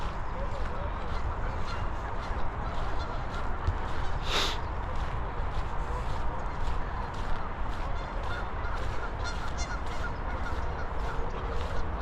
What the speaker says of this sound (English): You can hear the sound of these birds in the background and the goose and stuff like that.